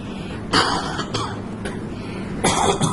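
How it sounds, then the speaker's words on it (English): Two loud bursts of coughing, one near the start and another near the end, with a few smaller throat-clearing sounds between, close and without talk. "it hurts to cough"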